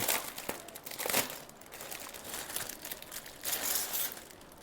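A sticker sheet for an RC train being opened, giving close, steady crinkling and rustling of paper and plastic with occasional sharper crackles.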